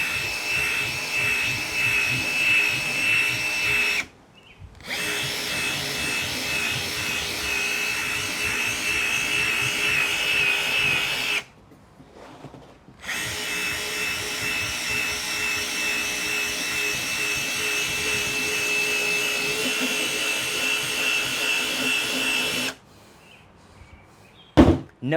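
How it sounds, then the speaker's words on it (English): A drill-mounted scrub brush works a surface during a detailing job, a steady loud whirring drone that runs for long stretches, broken by two brief pauses before carrying on. "Drill brush."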